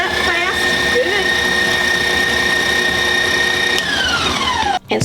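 Electric mixer whirs steadily while mixing lemon bar crust, a loud high whine holding its pitch, then winding down and cutting off near the end.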